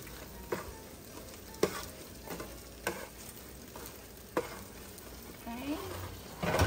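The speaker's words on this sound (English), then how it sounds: "They are sizzling." Food sizzles steadily in a preheated cooker while pieces are flipped, with sharp scraping clicks of a utensil every second or so over the constant frying hiss.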